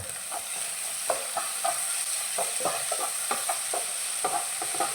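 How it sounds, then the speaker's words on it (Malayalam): Onion masala with salt is sautéed in a pan, a steady sizzle running throughout with repeated soft scrapes and stirring taps of a spoon against the pan, close and fairly loud. "ഉപ്പ് ചേർത്ത് കൊടുത്തു. ഒന്നുകൂടെ നന്നായിട്ട് വഴറ്റാം."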